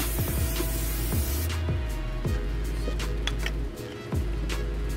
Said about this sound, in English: And spraying oil on it.